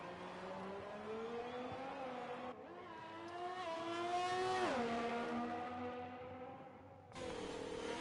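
Formula 1 race car engine in the F1 2020 video game on a flying lap around the Canada circuit, a loud continuous high-pitched whine rising through the revs, dipping briefly for a gear change, then climbing again.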